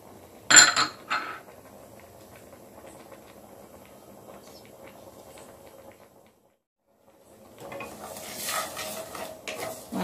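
Fenugreek and mustard seeds dry-roasted in a pan for a tomato pickle, with a sharp rattle of stirring at the start, a quiet stretch, then renewed scraping and faint crackle of seeds.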